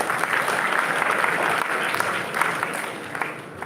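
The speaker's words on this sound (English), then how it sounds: "Give him a big round of applause." Applause for a contestant at a school interhouse quiz competition, a steady, moderately loud patter of many hands clapping that continues evenly through the whole stretch, with a few sharper claps standing out.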